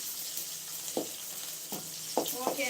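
Sambar cooks in a pot with a constant soft sizzle, broken by a few sharp scraping clatters of a spoon stirring, close and moderately quiet.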